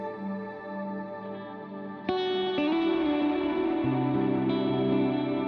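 An electric guitar runs through delay and reverb effects pedals, with sustained chords swelling into long, echoing trails that smear each change into a dense ambient wash. The playing is loud and steady, with no talking over it.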